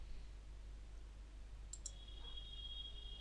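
A mouse click or two in a quiet room, brief and faint, followed by a thin steady electronic whine.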